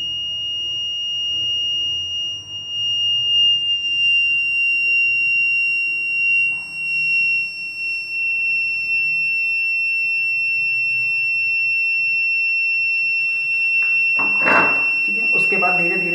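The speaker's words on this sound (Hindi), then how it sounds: "ठीक है, अब धीरे धीरे बजर ऑन हो रहा है।" A buzzer in a thermistor-controlled alarm circuit gives a steady, high-pitched electronic tone that holds unbroken through the whole stretch, with a short burst of voice near the end.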